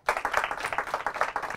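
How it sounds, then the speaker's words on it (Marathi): Studio audience on a Marathi quiz show claps for a correct answer, a quick, even patter of hand claps from a modest group, fairly close and without voices. "जोरदार टाळ्या"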